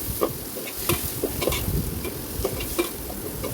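Chopped tomato sautéing with coconut in a pan for a Erode-style country chicken curry, a steady close sizzle broken by repeated scraping stirs of the spoon against the pan.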